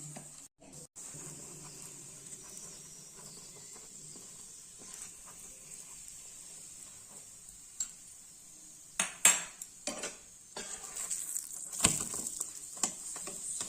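Carrot paratha fries in a pan with very little oil, giving a steady soft sizzle throughout, with a few sharper clinks and scrapes of a utensil near the end.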